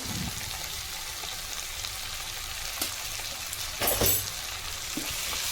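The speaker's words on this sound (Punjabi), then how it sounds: "ਅੱਜ 2 ਮਿੰਟ ਆਪਾਂ ਇਹਨੂੰ ਟਮਾਟਰ ਨੂੰ ਭੁੰਨ ਕੇ" Tomatoes with salt fry in a pan for a soybean paneer and capsicum curry, giving a steady, moderately loud sizzle with occasional stirring scrapes and a brief louder burst near the end.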